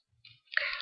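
Lindstrom cutters squeezing through thick jewellery wire for jump rings give a brief faint click, then a harsher close crunch as the jaws bite through, all within a second.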